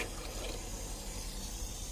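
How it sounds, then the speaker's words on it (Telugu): Tap water runs steadily into a container for soaking clothes, a constant, fairly quiet rushing stream that fills the whole short stretch with no talk over it. "తర్వాత చూడండి ఈ విధంగా నీళ్ళు పట్టేది"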